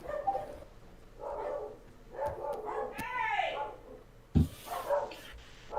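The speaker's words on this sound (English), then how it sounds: "They're still barking." Dogs bark in short, repeated bursts at a moderate distance, with a sharp clatter midway and people talking over the barking.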